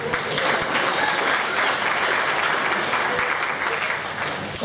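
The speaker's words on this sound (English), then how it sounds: "One more round of applause." Hall of fame induction ceremony audience gives a loud, sustained round of applause, thick continuous clapping that holds steady from start to finish without a break.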